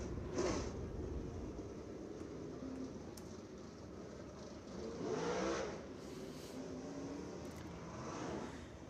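Late model race cars roll out onto the track at Screven Motor Speedway in winter practice, their engines faint and distant, swelling in several revving passes before fading back.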